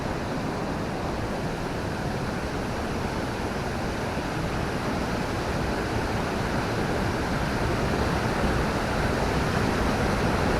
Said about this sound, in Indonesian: Air terjun ini tergolong cukup besar ya.